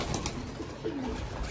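A pigeon gives a brief, soft coo close by over a steady background hum, a single short call.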